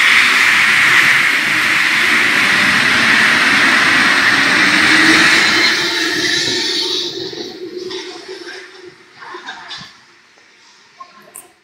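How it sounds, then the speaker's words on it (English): A train pulls out of a station, a loud sustained rumble and engine drone for several seconds that then fades away, leaving quieter scattered sounds. "So here, the train is about to leave."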